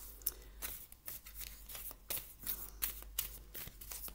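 Close and quiet, a deck of oracle cards is shuffled by hand in a series of soft, crisp riffles and slaps, with no talking.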